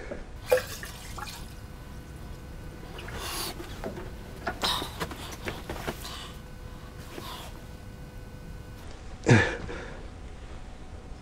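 Water poured into the fuel tank of a Simson SR2 motorcycle, with faint splashes, drips and trickles arriving in short scattered bursts against a quiet background, a few sharper drops standing out near the end.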